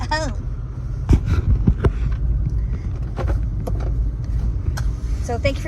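A car drives along with a steady, low road and engine rumble, scattered clicks and knocks rising above it, and a person talking over it.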